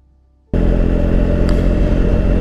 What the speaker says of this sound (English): The next thing we'll do is fire up the bike and we'll give it a test ride